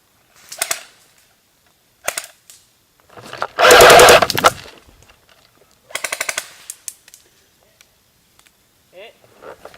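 Airsoft guns fire during an outdoor airsoft game: short rattling bursts and one longer rapid full-auto stream, loud and close, with players talking between the volleys.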